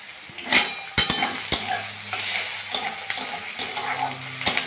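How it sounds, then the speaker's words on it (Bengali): Onion, garlic and julienned ginger sizzle in a hot pan while a utensil scrapes and clanks against the metal a few times. "সবগুলো এখন ভালো করে ভাজা হোক"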